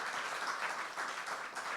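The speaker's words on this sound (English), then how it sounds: "So I want to give SKNIS a big round of applause." Brief applause from an audience at a government event unveiling new hospital designs in St. Kitts and Nevis, a steady patter of clapping heard for under two seconds at moderate level.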